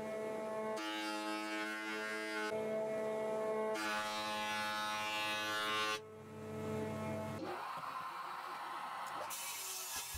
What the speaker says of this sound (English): set up the planer as a thicknesser and did several passes on each piece